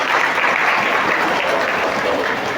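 Steady applause from an audience of mothers at an Islamic religious gathering in Denpasar, Bali, dense, continuous clapping filling the whole moment at close range.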